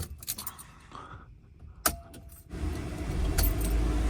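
Keys jangle up close, followed by a diesel truck engine cranking and catching into a steady, loud idle in a cold winter parking lot at minus seven degrees.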